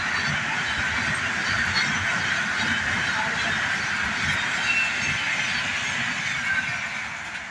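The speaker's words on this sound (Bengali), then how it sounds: "এই এক্সপ্রেস ট্রেন আসছে।" An express train running past on a line beside a house, a steady broadband rush and rumble with some high squeal, sustained loud and close throughout.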